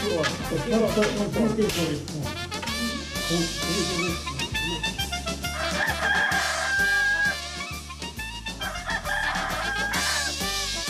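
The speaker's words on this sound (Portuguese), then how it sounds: "O galo de Manuel já canta, da varanda" A rooster crows loudly several times against a busy, layered background of other sounds.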